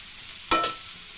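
A ginger and green chilli paste hits a hot pan in a short, sudden burst of sizzle that quickly fades to a low hiss, close and alone, while jackfruit curry is being cooked.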